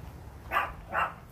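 A dog gives two short, sharp barks about half a second apart, moderately close, inside an RV over a faint background hum.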